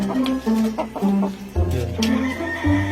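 Two pet hens cluck and murmur close by in a backyard coop, with repeated short clucks and a louder burst of calls partway through.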